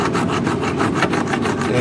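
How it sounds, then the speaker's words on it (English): Hand file rubbing back and forth on a bone carving, a loud close rasping scrape repeated in quick regular strokes, about four per second, with no talking. "So I'll just touch it a few times with the file."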